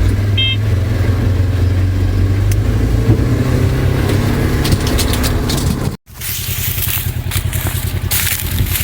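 A tractor drives back and forth seeding a 24.5-acre field, its engine droning and rumbling loudly and continuously with crunching and rattling, cutting out briefly before resuming.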